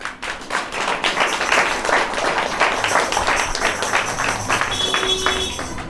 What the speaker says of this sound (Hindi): एक बार सबके लिए ताली बजाइए एक बार